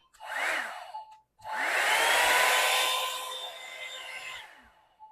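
A hair dryer whirs briefly, cuts off, then roars loudly and steadily for several seconds before fading down.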